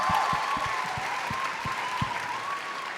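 An audience at a creator awards event in Berlin applauds steadily in a dense wash of clapping that holds at an even level throughout, with a faint tone running beneath it.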